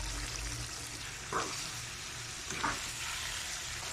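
Chicken pieces for adobo sizzle and fry steadily in a pan, with two brief stirring scrapes rising above the constant crackle; no voices.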